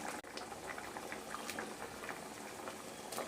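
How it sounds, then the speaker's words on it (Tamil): Fish curry bubbling in a pot on the stove, a soft, continuous crackle of small bursting bubbles, faint and steady throughout. "குழம்பு நல்லா கொதிச்சிருச்சு, மீனை இதில் ஆட் பண்ணிக்கலாம்."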